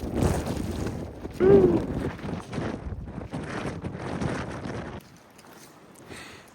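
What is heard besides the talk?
strong gusty wind blowing on microphone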